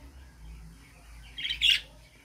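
Young lutino budgerigar chicks give a quick burst of high, sharp chirps that rise out of a quiet room, close and brief against faint background hum.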